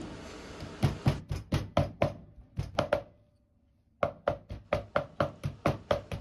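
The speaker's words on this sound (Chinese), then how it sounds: "然後再剁細" A knife chops pork finely on a cutting board in quick, evenly spaced sharp knocks, close and crisp, pausing for about a second before resuming the same brisk rhythm.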